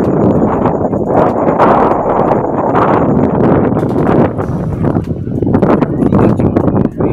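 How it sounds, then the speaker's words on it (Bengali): Strong wind roars continuously against the microphone at the Gumbadara viewpoint on the road to Darjeeling, loud and gusty, with heavy buffeting throughout and brief lulls near the end. "হাওয়া দিচ্ছে, দাঁড়ানো মানে অসম্ভব হয়ে দাঁড়িয়েছে।"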